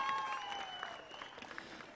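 Faint, distant applause rises for kabaddi player Akash at a tournament prize ceremony in Prabhadevi, with scattered claps and a thin tonal whine running through the first half.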